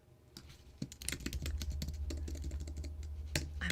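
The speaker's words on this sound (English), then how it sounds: "I'm typing." Rapid typing on a computer keyboard: dense, uneven runs of close, crisp key clicks that continue steadily throughout.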